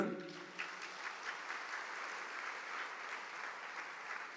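A congregation claps hands together in steady, dense applause that fills several seconds, heard from a distance and fairly faint.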